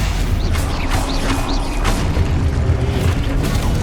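Spell effects cast in Hogwarts Legacy, a Stupefy stunning spell among them: a continuous bed of game sound with several short whooshing bursts and faint chimes in the first two seconds, loud and steady throughout.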